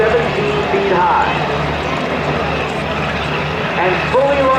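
A UH-60 Black Hawk helicopter at an airshow gives a steady, loud rotor and engine drone with a continuous low rumble, while someone talks over a public address system throughout.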